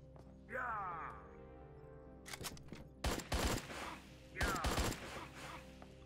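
Machine gun fire in the video game Attack of the Earthlings, with short rattling bursts of rapid shots among other game effects, moderately loud and close.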